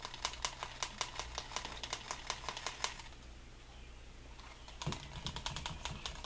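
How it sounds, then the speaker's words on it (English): A leather edge being burnished by hand, a rapid regular series of close rubbing strokes that pause briefly, then resume with a sharper knock and further rubbing. "So I'm gonna go ahead and keep burnishing this."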